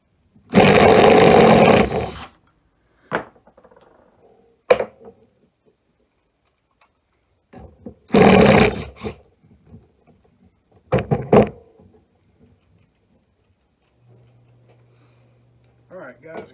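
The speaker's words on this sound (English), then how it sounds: "this is the Hart 20 volt rechargeable impact driver" A Hart 20 volt rechargeable impact driver hammers in two loud bursts of about two seconds each, followed by scattered short knocks and clunks, close up with long quiet gaps.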